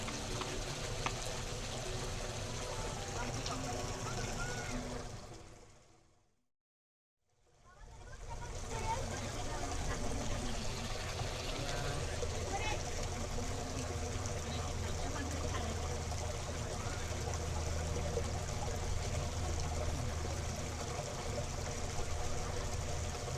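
Steady, soft splashing of falling water from a fountain in Portland's International Rose Test Garden on a summer evening, continuous and gentle, with a brief drop to silence partway through and faint background voices.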